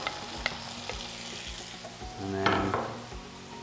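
Prawns and garlic fry in a hot pan with a steady close crackle, broken by repeated sharp clinks of a utensil against the pan and a brief louder burst; a voice speaks briefly.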